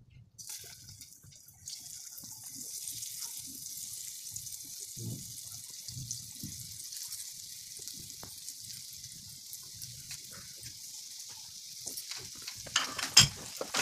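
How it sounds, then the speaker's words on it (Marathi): Potato slices fry in a few spoonfuls of oil with a soft, steady high sizzle, joined by occasional low knocks and handling sounds and a louder clatter toward the end. "आपली जी उरलेली आहेत ना काप, ती आता आपण एक एक करून फ्राय करूया"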